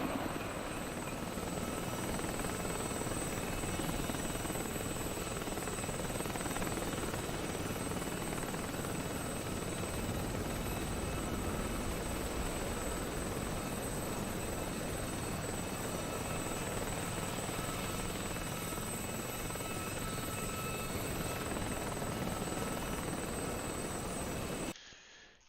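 A Mi-8 helicopter in a combat video game drones with steady rotor and turbine noise for over twenty seconds, loud and unbroken, cutting off abruptly at the end with no talking.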